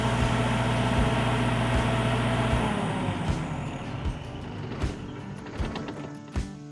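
Dynovis XGT30 generator winding down after being switched off, a loud steady engine drone fading into sputters and irregular knocks as it slows to a stop.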